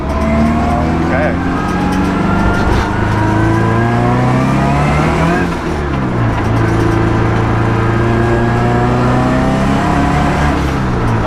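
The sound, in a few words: Scion FRS engine revving and bogging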